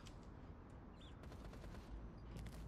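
Gunfire in a shooter video game, a dense, fairly quiet crackle of rapid shots running steadily without pause, with no talk over it.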